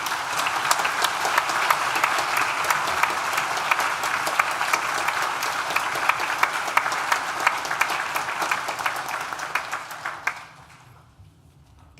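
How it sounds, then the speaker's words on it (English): Graduation ceremony audience at a Nottingham Law School commencement applauding in a large hall, a dense, steady round of clapping lasting about ten seconds before fading out to near silence. "Please join me now in thanking them with a well-deserved round of applause."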